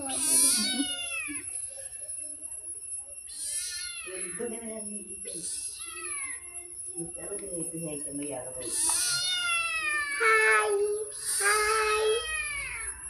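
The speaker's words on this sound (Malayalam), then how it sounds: "ഇതാ ഗായ്സ് പൂച്ചക്കുട്ടികള്" Several kittens meow repeatedly in high, thin cries, close by, while a person speaks softly over them.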